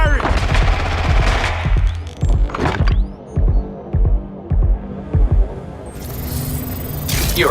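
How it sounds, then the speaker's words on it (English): Gunfire in the Watch Dogs: Legion video game, a series of loud, close bursts of automatic shots over a low game hum, with sharper individual cracks spaced through the middle. "Target is firing!"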